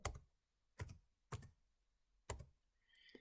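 Four separate bursts of keystrokes typing scores into a computer spreadsheet cell for a 2021 pétanque-style competition, each short cluster of clicks close and distinct, with quiet gaps between and a faint higher rattle at the end.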